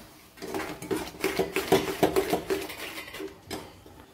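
A spatula scrapes and clinks steadily against a pan while egg bhurji is stirred over low heat until dry, with repeated close metallic taps and scrapes in an uneven rhythm.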